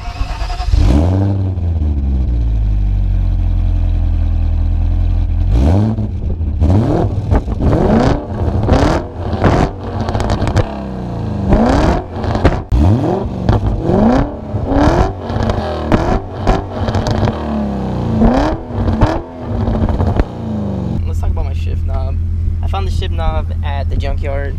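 A BMW E34 530i sedan engine with a muffler delete idles with a deep rumble, then revs repeatedly in sharp bursts, loud and throaty, before settling back to a low idle near the end.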